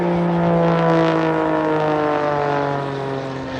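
A propeller aerobatic display plane's engine drones loudly and steadily through a tumbling manoeuvre at a seaside regatta air show, holding strong for a few seconds before easing slightly as it fades.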